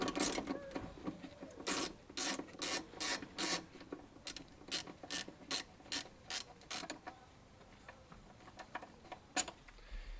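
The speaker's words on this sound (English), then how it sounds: "So I've slid the seat all the way forward now" Campervan driver's seat sliding forward along its metal rails, a series of sharp ratcheting clicks in quick bursts, loud and close, with short pauses between runs of clicks.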